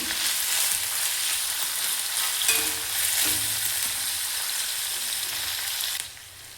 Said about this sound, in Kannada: ಚೆನ್ನಾಗಿ ಮಿಕ್ಸ್ ಮಾಡ್ಕೋಬೇಕು. ಈರುಳ್ಳಿ ಸ್ವಲ್ಪ ಕಲರ್ ಚೇಂಜ್ ಆಗಬೇಕು.